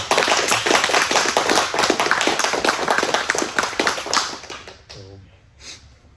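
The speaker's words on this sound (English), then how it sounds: "Let's give one more round of applause for Shawn." A group gathered at a jiu-jitsu class claps for several seconds in quick, close, crisp applause that fades out, with a voice briefly heard at the end.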